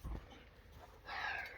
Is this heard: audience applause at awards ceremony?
no